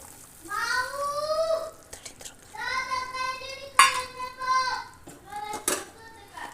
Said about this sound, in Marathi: आता हे मिक्स करून घेणार आहोत